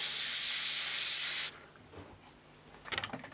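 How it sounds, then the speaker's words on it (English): Airbrush spraying very thin paint onto a Tamiya 1/32 Vought F4U-1 Corsair Birdcage model kit part, a steady close hiss lasting about a second and a half before cutting off, followed by faint handling clicks and rustles. "So we'll spray this part first."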